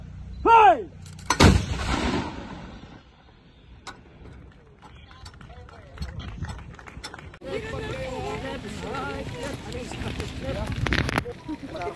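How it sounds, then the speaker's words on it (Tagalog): A cannon fired at an artillery regiment during an educational tour lets out a single loud, sharp boom near the start, followed by lingering rumble and outdoor ambience while people talk nearby. "Kanina po nagpaputok ko sila ng canyon."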